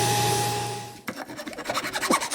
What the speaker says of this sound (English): I used a file to smooth down the faces of what I just cut